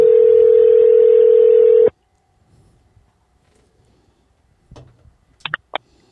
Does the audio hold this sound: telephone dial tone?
yes